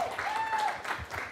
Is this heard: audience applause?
yes